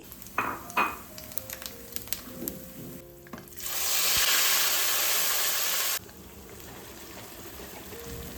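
Whole spices (cinnamon, cloves, cardamom, bay leaf, star anise, cumin, mace and dried red chillies) dropped into about two tablespoons of hot oil, with a few clinks, then a loud, steady hiss that cuts off, leaving a low crackle.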